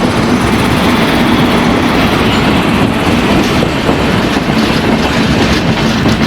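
The Jan Shatabdi Express pulls into a station platform with a loud, continuous, rumbling roar that holds steady throughout, with no talk over it.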